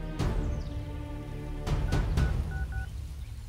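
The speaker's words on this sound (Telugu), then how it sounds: "ఎవరికో ఫోన్ చేశాడు" A telephone keypad sounds a short series of touch-tone beeps near the end, preceded by a few dull thumps against a low steady room background, with no speech.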